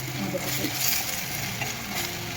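Onions sautéing in a pan for masala dosa filling, a steady close sizzle with stirring scrapes running through the whole stretch, no talk.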